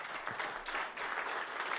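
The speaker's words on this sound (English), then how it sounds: "if you could all get up on your feet and give them a huge round of applause" A crowd on its feet applauding to welcome a speaker to the stage, a dense wash of clapping that holds steady and fairly loud for the whole stretch.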